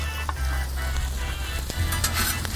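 Lowcountry hash sizzles steadily on a hot flat-top griddle as it is mixed, a continuous crackling fry with occasional soft scrapes of a spatula, close and even in level.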